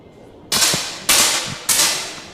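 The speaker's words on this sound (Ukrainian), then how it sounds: "Фіналісти виконують спочатку дві серії по 5 пострілів, здобувають собі невеличкий гандікап і потім виконують по два постріли на вибування" Three sharp pistol shots at a shooting competition final, evenly spaced about half a second apart, each a loud broadband crack with a short decaying tail and no talk.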